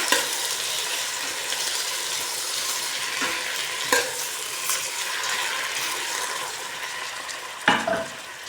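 A generous batch of shrimp frying in a pan, a dense continuous sizzle with spatula stirring and a few sharp clacks against the pan, no talking.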